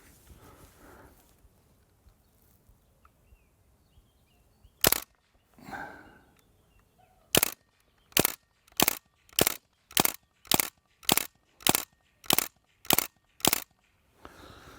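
Umarex Legends MP German airgun firing semi-automatically: one sharp shot, a pause, then a steady string of about ten loud, crisp pops at a regular pace, near and alone.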